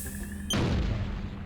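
A mine cannon firing in the Worms World Party video game: a single sudden thump-like launch after a brief tonal lead-in, followed by a short rumbling tail, moderately faint.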